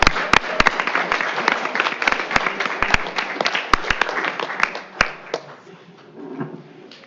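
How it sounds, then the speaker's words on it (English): Audience at a school board meeting clapping for a math teacher, loud and close at first with sharp individual claps, then thinning and fading out toward the end as a few murmurs remain. "Let's give them another round of applause."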